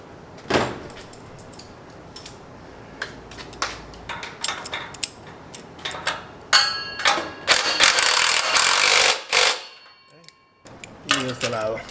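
Ratchet wrench tightening bolts while a sport dual 2.5-inch muffler is installed on a Subaru Impreza, heard as bursts of close clicking and metallic clanks in irregular runs, with pauses and brief quiet between.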